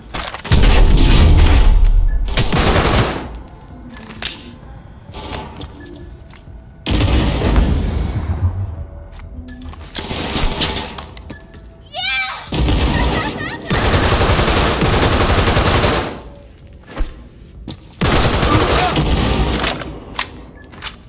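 Cyberpunk 2077 combat with loud bursts of gunfire and booming grenade blasts, arriving in separate heavy volleys broken by short lulls, with a voice speaking between them.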